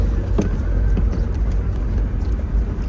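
A car drives along a road into Kariba, Zimbabwe, giving a steady, close rumble of engine and tyre noise with faint ticks over it and no talking.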